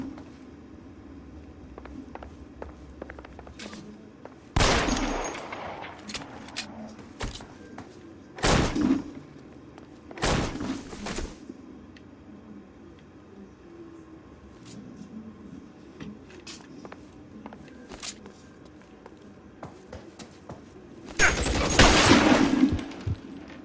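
Sporadic gunshots in an L.A. Noire shootout, a few loud isolated bursts spaced several seconds apart over a quieter background of game ambience.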